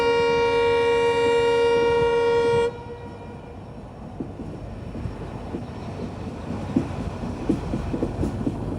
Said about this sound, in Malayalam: ട്രെയിൻ ഇപ്പോൾ ലാലാ ബസാർ റെയിൽവേ സ്റ്റേഷനിലേക്ക് ഇതാ എത്തിയിരിക്കുകയാണ്